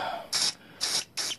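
Three short aerosol spray bursts hit the unit bearing bolts on a Jeep JKU Wrangler during a ball joint replacement, each hiss lasting about a quarter second with brief pauses between, close and clear.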